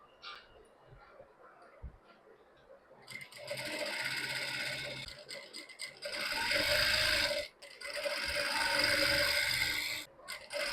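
An electric sewing machine stitches the hem of a saree in three fast, loud whirring runs separated by brief stops, after a quiet start with faint handling sounds.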